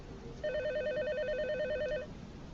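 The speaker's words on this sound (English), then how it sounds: "a phone call came in" A telephone rings with an incoming call at night in a rainy setting: one warbling electronic trill lasting about a second and a half, moderately loud over a soft background hiss.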